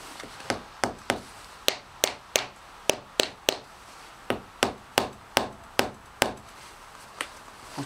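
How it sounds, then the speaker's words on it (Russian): Sharp, solid taps from a rubber mallet strike one after another in an irregular rhythm, close and fairly loud, working on an Aprilia Caponord 1000 motorcycle. "нам надо резиновый молоточек"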